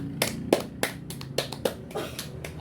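A classroom group clapping hands, a short burst of sharp, slightly uneven claps over about two and a half seconds, close and moderately loud.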